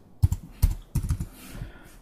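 Computer keyboard typing, a few quick bursts of clicking keystrokes in an irregular rhythm, close and clear, with no talking over it.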